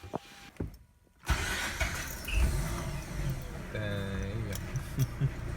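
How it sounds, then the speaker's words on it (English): A Mazda RX8 with a newly replaced starter cranks and fires up quickly, the starter whir giving way to the rotary engine catching and settling into a steady idle, close and loud after a brief quiet gap. "new starter replaced, and it is time to test the vehicle right now. Let's see how fast it's gonna start."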